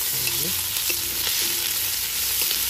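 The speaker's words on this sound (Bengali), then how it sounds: "তারপরে তেজপাতা পড়লো, আমার তো দেখে এখনই খেতে ইচ্ছা করছে। শুকনো লঙ্কা দেওয়া হলো, গোটা গরম মশলা দেওয়া হলো কিছু। এবার দেওয়া হচ্ছে পেঁয়াজ," Onion fries in hot oil with bay leaf, dry red chilli and whole garam masala in an outdoor garden kitchen, making a constant close sizzle with light stirring scrapes. No one speaks.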